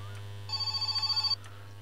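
Telephone in the My Summer Car video game ringing in a quick run of repeated electronic bell pulses over a steady low hum, then stopping abruptly.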